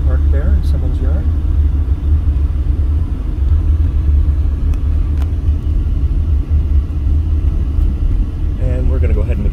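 Car driving along a residential street in Las Vegas with old homes, a steady close engine rumble and road noise throughout, with someone talking over it.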